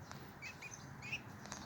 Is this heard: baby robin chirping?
yes